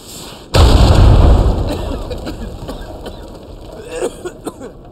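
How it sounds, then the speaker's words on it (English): A sudden loud explosion booms in the video game Uncharted 4, a sharp blast followed by a rumbling decay and scattered debris clatter over the next few seconds. "now we know what caused the explosion we heard earlier."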